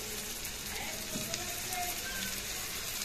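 Hilsa fish fry in a pan with spice paste, making a steady, close, even sizzle that continues throughout with faint clinks beneath it.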